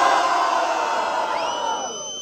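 A loud crowd at a freestyle rap battle roars and whoops together, the cheering fading slightly toward the end with a high whistle rising near the close.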